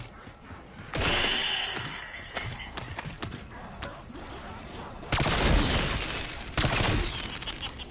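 LC10 assault rifle fire in Black Ops 6 Zombies rattles in loud sustained bursts, a long stretch early and another later, with scattered impacts between and a voice talking faintly underneath.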